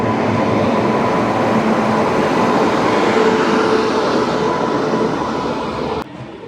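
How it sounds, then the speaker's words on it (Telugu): The Venkatadri Express, running from Chittoor to Kacheguda, arrives at Tirupati station with a loud, steady, close rumble of rolling wheels and carriages that drops off abruptly near the end. "వచ్చేస్తుంది వెంకటాద్రి ఎక్స్ప్రెస్. చిత్తూరు నుంచి కాచిగూడ వెళ్తుంది."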